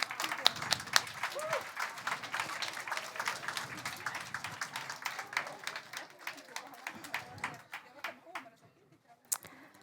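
Applause from an audience at a children's green-themed closing event at Telia headquarters, dense steady clapping that thins out and fades toward the end, with a few late claps.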